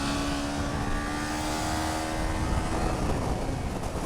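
A Kawasaki Z400 motorcycle engine hums with airbox intake noise while riding, a steady loud drone with rushing wind, the tone shifting slightly as the revs hold and then ease.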